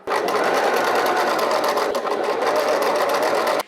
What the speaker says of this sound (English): I'm gonna actually just stitch the sides closed as well